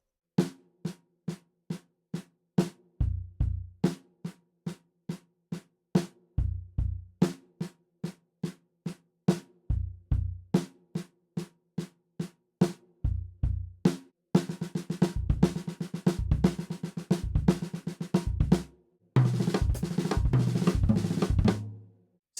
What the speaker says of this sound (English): we're going to basically play the 6-stroke roll in 16th notes